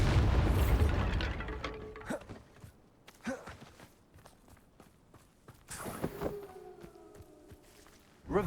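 In the Hogwarts Legacy video game, a Bombarda spell explosion opens with a heavy boom that rumbles away into scattered thuds and footsteps, and a second sharp blast lands at the very end.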